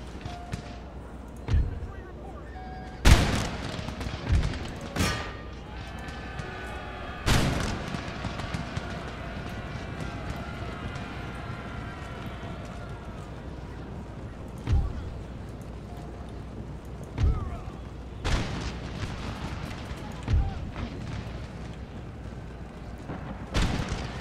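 Cannon fire from an artillery battle in the strategy game Empire: Total War, with sharp booming shots spaced irregularly over distant battle noise and a narrator speaking at times.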